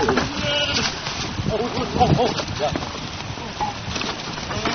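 Sheep bleat amid a flock outdoors, several short wavering calls rising over a busy mix of hoof shuffling and voices of people talking and shouting nearby.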